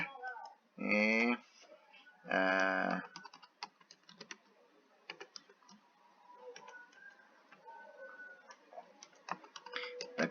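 Keys tapped on a computer keyboard while entering a password at a login screen, heard as scattered light clicks and ticks across the clip, with a person talking in short bursts near the start.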